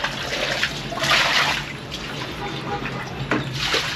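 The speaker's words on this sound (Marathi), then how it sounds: "टाक पाणी टाक." Water is poured out to rinse a floor, giving a splashing, gushing wash in short surges, close by, while people talk over it.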